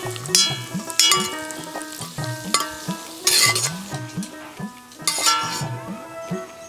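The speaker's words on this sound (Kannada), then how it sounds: "ಬಾಣಲೆಯಲ್ಲಿ ಗೇರು ಬೀಜ ಮತ್ತು ದ್ರಾಕ್ಷಿಯನ್ನು ಹುರಿಲಿಕ್ಕೆ ಉಂಟು" Cashews and raisins fry in a pan for Kashmiri pulao with a soft, steady sizzle. Repeated metallic clinks and scrapes of stirring sound close by, over a faint, wavering tonal hum.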